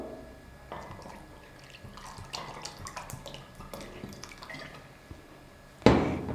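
Water is poured into a bowl over tomatoes for soaking, giving soft drips and trickles at close range, ending in a louder splashing burst as the flow lands.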